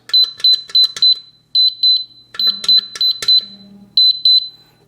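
Crisp electronic keypad beeps from a Dalmbox biometric pistol safe as a new code is entered. The close, high tones come in quick irregular groups with short pauses between them.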